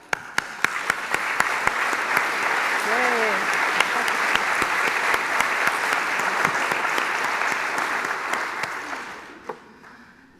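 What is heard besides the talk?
audience applause for nursing students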